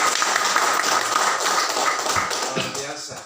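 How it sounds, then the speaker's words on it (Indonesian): A congregation claps together at a Christmas church service in Sabron Yaru, Jayapura, Papua: dense, steady applause that fills the room for the whole stretch and tapers slightly toward the end. "Mari kita berikan tepuk tangan untuk kebaikan Tuhan."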